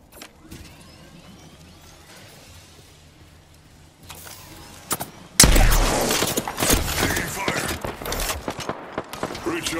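Video game gunfire breaks out partway through as a loud, sustained volley of rapid shots and impacts, after a quieter stretch of low game ambience with a few faint thuds.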